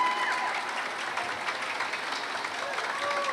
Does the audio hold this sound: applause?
yes